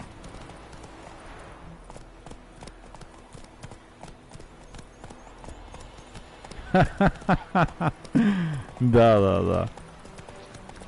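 Horse hooves in the Warzone video game clip-clop in a quick, even run of sharp beats that grows louder toward the end, over game sounds, while someone talks over them.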